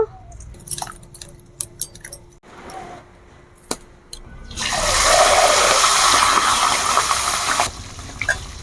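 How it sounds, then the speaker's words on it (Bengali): Moong dal lentils are tipped into hot water, giving a loud sustained rushing gush for several seconds after some clinks and handling noises, with no speech. "এবার আমি গরম জলের মধ্যে ডালগুলো দিয়ে দেব"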